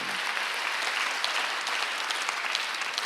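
A church congregation applauds during a Sunday worship service, with a continuous, even roar of many hands clapping together.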